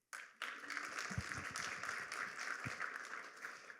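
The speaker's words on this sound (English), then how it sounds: "So yeah, big round of applause for Jason." An audience at a conference presentation claps steadily throughout, a warm continuous wash of applause with a few louder thumps mixed in, heard from within the room.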